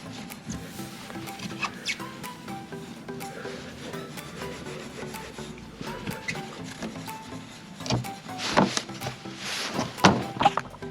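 An oxidized chrome exhaust pipe tip is scrubbed by hand in steady close rasping strokes, the rubbing building to louder, busier scrubbing near the end with no talk.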